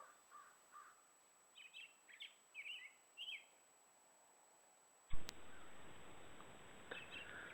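Several short bird chirps and calls ring out in quiet open air in a backyard, then a sudden rush of louder noise takes over with faint chirps returning.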